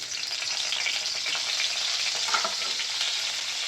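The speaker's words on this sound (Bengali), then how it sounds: "কালো জিরেটা একটু ভেজে নেব চার পাঁচটা কাঁচা লঙ্কা দিয়ে দিচ্ছি" Black cumin seeds and green chillies fry in a little hot oil, a dense, continuous bright sizzle and crackle heard close up with no voices.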